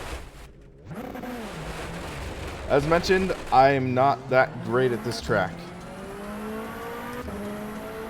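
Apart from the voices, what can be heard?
4-cylinder prototype race car engine in rFactor 2 video game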